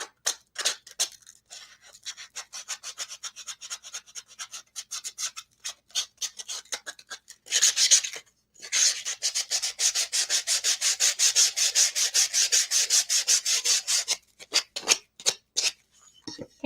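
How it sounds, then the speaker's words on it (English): Wooden edges being hand-sanded in quick rubbing strokes, with short bursts early on, then a long steady run of close, brisk back-and-forth scratching before a few final strokes, with no voices. "I'm just going to sand real quick the edges of this."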